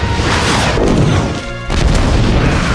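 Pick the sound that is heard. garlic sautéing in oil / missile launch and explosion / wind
missile launch and explosion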